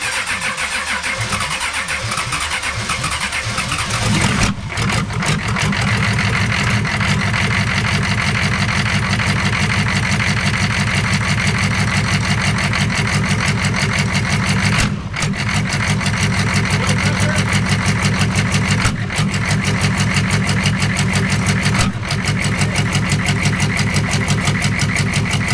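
A 6.5 diesel engine in a Squarebody truck cranks and fires after the glow plugs cycle, then settles into a steady, loud, close idle with a clattering rhythm that runs on alone, with brief dips along the way.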